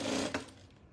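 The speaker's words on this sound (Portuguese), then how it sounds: "E vou fazer uma costura aqui nessa marcação aqui também de 2 centímetros." Brief, close whirring burst of a domestic sewing machine stitching a seam on a craft fabric basket, running steadily and then cutting off abruptly, with no talk.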